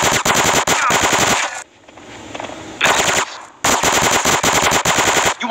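Rapid automatic gunfire in the video game GTA San Andreas, loud and close, in long sustained bursts broken by a short lull of fainter rumbling before the shooting resumes.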